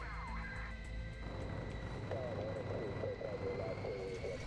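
Aircraft flying in the Worlds at War VR video game, a steady engine drone with a faint high whine, continuous and moderately loud under someone talking excitedly.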